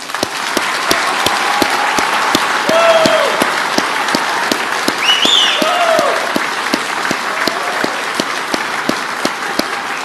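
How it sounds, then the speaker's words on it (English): A large audience at a US Army retirement ceremony gives a sustained, dense round of applause for the retirees. The clapping stays steady and full throughout, with some crowd murmur and a few brief cheers under it. "please join me in one additional round of applause for all of our retirees"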